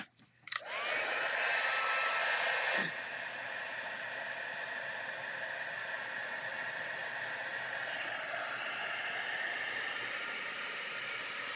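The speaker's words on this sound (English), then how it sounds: "And then I'm going to heat set it." Heat embossing tool blowing hot air onto a stamped card, a loud steady hairdryer-like roar that starts abruptly, steps down slightly after a few seconds and then holds a constant whoosh with a faint whine.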